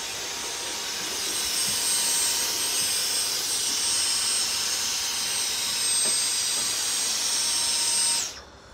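An Eversholt 125 cyclone vacuum cleaner runs with a loud, steady high-pitched whine and airy hiss, holding constant for several seconds before the motor shuts off and the sound quickly dies away.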